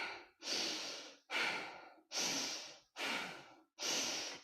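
Slow, calm breathing during a yoga flow: five long, even breaths in steady rhythm, each a soft broadband whoosh about half a second apart, close and clear with no talking.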